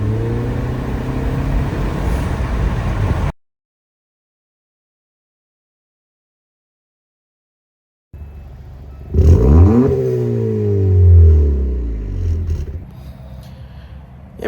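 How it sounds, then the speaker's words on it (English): A 2025 Acura Integra with a muffler delete and a new hand-installed exhaust revs loudly nearby, with steady engine drone at first, then a silent gap, then rising and falling revs. "that's the new exhaust"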